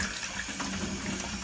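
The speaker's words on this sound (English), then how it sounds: "I'm going to fill up this 1-gallon bucket" Water from a standard shower head pours steadily into a 1-gallon bucket, a close, even rushing splash with no voices.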